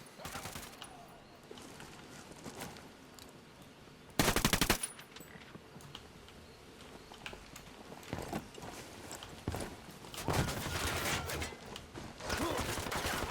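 Gunfire in the video game Ghost Recon Wildlands: fast rattling bursts and single sharp shots against enemies, some loud and close, others fainter, spread unevenly through a busy background of movement and clatter.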